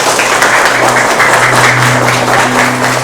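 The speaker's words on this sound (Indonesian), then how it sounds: "Tepuk tangan dong untuk semuanya, tepuk tangan." Applause from a class after a student presentation, a dense steady wash of many hands clapping close by, filling the whole stretch without pause, with a low hum underneath.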